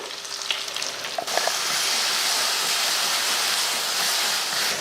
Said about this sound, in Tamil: நம்ம வதக்கின வெண்டைக்காயை சேர்த்துருவோம் அதையும் சேர்த்து லைட்டாக வதக்கி விட்டுருவோம் அரைச்ச மசாலா சேர்த்துருவோம்